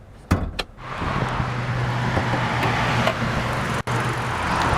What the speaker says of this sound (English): And we're going to pop the hood.